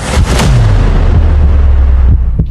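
A loud, heavy gunshot booms and rolls away, followed by a lingering rumble and a second sharp crack near the end.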